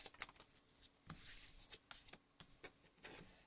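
Tarot cards being shuffled up close: a run of crisp riffling flutters and sharp snaps, fairly quiet, with no one speaking.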